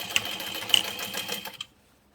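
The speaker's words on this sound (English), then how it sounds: "And then top stitch that shut." A sewing machine top-stitching a seam shut on a handmade bottle carrier, running in a quick steady whir with fast needle ticks for about a second and a half before stopping abruptly.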